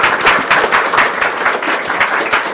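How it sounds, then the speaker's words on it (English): An audience gives a steady round of applause after a real-time animation presentation, with dense, even clapping sustained and loud throughout. "Big round of applause."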